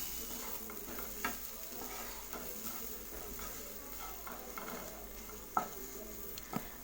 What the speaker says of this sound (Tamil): இந்த மசாலா பொடியோட பச்சை ஸ்மெல்ல போகிற அளவுக்கு 1 நிமிஷம் நம்ம நல்லா வதக்கி விட்டுக்கலாம்.